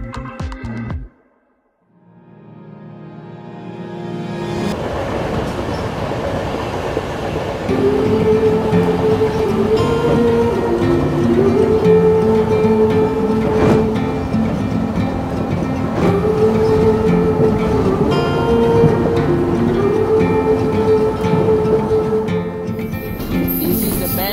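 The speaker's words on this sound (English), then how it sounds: "it was time to catch the train to move to our next destination" Inside a moving passenger train in the hills of Sri Lanka, a loud steady rumble of wheels on rails with rattling carriage noise and occasional tonal whines, after a brief quiet start.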